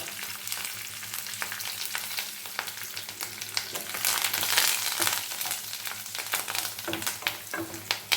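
Asafoetida hits hot oil for hotel-style sambar rice, giving a continuous soft sizzle and crackle with scattered sharper pops and stirring scrapes, fairly close and without talk.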